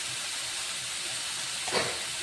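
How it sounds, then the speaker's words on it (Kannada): Food frying in a pan with turmeric and salt gives off a steady close sizzling hiss with a brief louder burst near the end, and no voices. "ಈಗ ಚಂದಾಗಿ ಫ್ರೈ ಮಾಡಿ"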